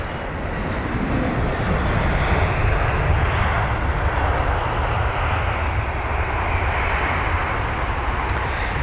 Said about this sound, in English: Looks to be a 320 as well. And a very smooth landing.